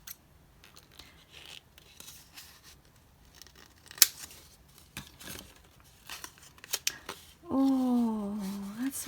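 Packaging for a Lady Falcon B6 Classic Plus travelers notebook in light brown is opened up close, with quiet snipping, crinkling and rustling, then a short burst of voice near the end.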